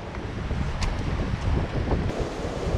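Strong wind blows across a cold, exposed mountain top at Carvins Cove in Virginia, a loud continuous roar of gusts buffeting the microphone with no talking.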